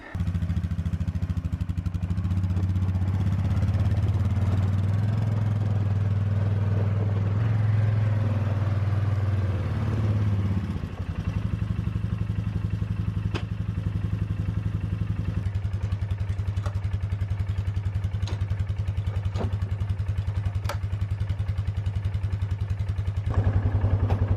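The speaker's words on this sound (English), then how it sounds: "let's back up the four-wheeler and give this thing a try" An ATV four-wheeler engine runs steadily with a low, continuous drone while backing up and pulling a homemade cart, with some clatter and rattling from the cart over the engine noise.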